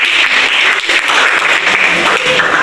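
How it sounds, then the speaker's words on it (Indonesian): A classroom full of students claps steadily together, a dense, loud burst of applause that carries through the whole stretch. "Tepuk siang, tepuk malam, tepuk pagi"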